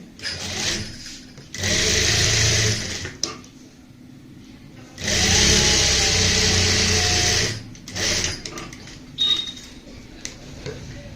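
An electric sewing machine stitches a neckline on plain fabric in two long, steady whirring runs, with shorter bursts and quiet pauses of fabric handling between them.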